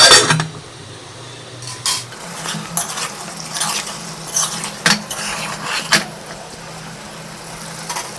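A spoon stirs chicken coated in ginger-garlic paste in a pan, giving irregular sharp scrapes and clinks against the metal over a faint steady background hum.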